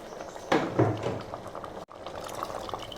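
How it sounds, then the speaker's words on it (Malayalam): Water poured into a pot of sambar, a brief louder splash and gush partway in, then a steady simmering bubble continuing after a short break, with no voices. "ഇച്ചിരി വെള്ളം കൂടെ ചേർക്കണം."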